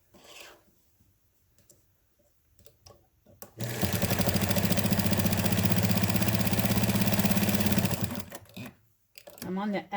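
A sewing machine stitches calico and denim hotpads, quiet handling sounds giving way to a fast, loud, continuous run of stitching for about four seconds before it stops abruptly.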